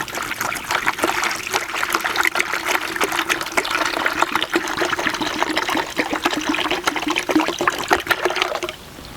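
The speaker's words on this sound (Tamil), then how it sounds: "இப்போது 1 லிட்டர் தண்ணி இதை நான் ஆட் பண்ணிக்கிறேன்." One litre of water pours steadily into a container for a neem oil pest spray, a continuous splashing trickle at close range that stops near the end.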